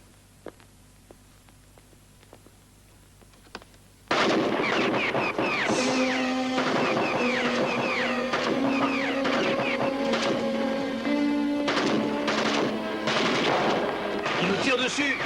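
Sustained gunfire from a sniper firing down on a police crew in a 1982 crime drama erupts after a quiet opening, a dense, loud barrage of shots with clattering impacts that fills the rest of the scene.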